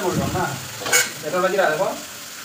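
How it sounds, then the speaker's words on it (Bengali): Fish sizzles loudly in a hot pan and gets stirred and scraped close up, with a sharp utensil clink partway through. "আমি এদিকে মাছ ভাজা করছি"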